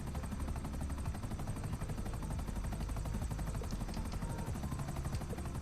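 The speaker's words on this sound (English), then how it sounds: "We're gonna land the chopper and we're gonna go and get it." A helicopter in GTA V Online, its rotor beating in a steady rapid chop with a low engine drone, loud and continuous with no talking.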